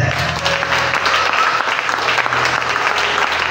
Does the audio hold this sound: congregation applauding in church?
yes